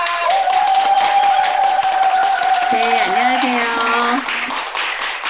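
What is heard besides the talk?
warm applause welcoming the speaker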